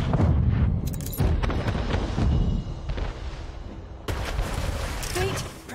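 Ship cannons firing in the naval combat of the video game Anno 1800, repeated loud booming blasts in quick volleys over a dense rumbling battle mix, with a pause and then further heavy fire.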